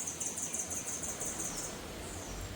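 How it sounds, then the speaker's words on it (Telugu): Continuous high, shrill chirping from many sparrows blends into a steady twittering chorus over a broad, noisy outdoor hiss in the Seychelles. "ఈ పిట్టెలు పిచ్చుకల సౌండ్ వినోరి"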